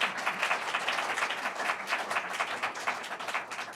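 Audience applause at a global health investment conference, a brief, moderately quiet burst of many hands clapping with a dense, steady patter.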